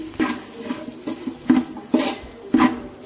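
Mashed tapioca with salt is stirred in an aluminium pan, with about six close, regular scraping strokes of the spoon in a steady rhythm.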